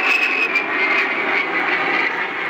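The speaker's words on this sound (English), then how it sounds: "Those are A-10s coming in. I'm under their landing path." A-10 jets on approach to land at Davis-Monthan Air Force Base near Tucson, heard from beneath the landing path as a loud, steady engine roar with a high whine running through the whole stretch.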